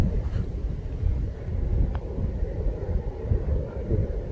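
Strong wind buffets the microphone on an open golf course at Clyne Golf Club, a continuous loud low rumble with gusty swells and no talking.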